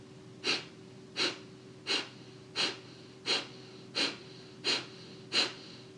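Rhythmic breaths during a fire meditation, eight short nasal puffs at a steady pace of about one every 0.7 seconds, close and fairly faint over a quiet background hum, with no talking.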